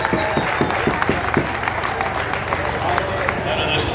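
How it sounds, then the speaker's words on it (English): A crowd applauds the fire department at an outdoor county fair demolition derby, with loud, steady clapping and some crowd murmur under it. "Round of applause for Trent Lake's fire department that's here today."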